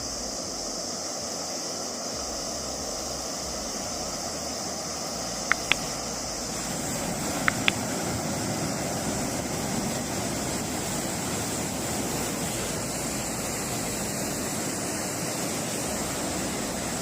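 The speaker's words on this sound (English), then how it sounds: "the spectacle of raging floodwater rushing down a nearby riverbed" Raging muddy floodwater rushes down a riverbed in Oman, a dense continuous roar of broadband noise with no letup, broken only by two pairs of brief sharp ticks partway through.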